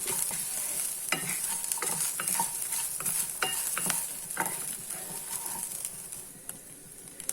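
Tomato rasavangi ingredients roasting in a pan, a steady close sizzle with scattered scraping stirs and small pops throughout, no talking.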